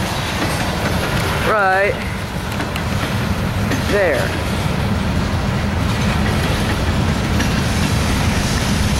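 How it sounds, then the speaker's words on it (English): A CSX manifest freight train departing Cincinnati, Ohio, rumbles and rolls steadily past close by, with a couple of rising horn or squeal tones early on and someone talking briefly over the noise. "Okay, train's going faster now."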